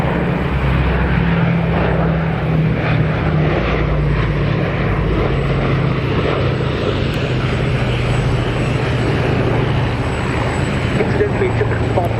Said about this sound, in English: But another amazing aircraft coming in for its final pass.